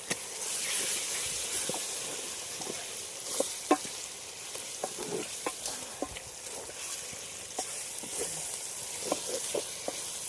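Mutton frying in gravy in a pot over a campfire in a deep forest, a steady soft sizzle and hiss with scattered small pops and crackles throughout, fairly quiet, no talking.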